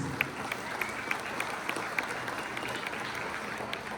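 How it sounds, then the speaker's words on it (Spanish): Steady applause from a large crowd at a governor's visit to San Juan Mixtepec, Oaxaca, dense clapping sustained throughout with a few sharper claps standing out. "un fuerte aplauso a todos ustedes"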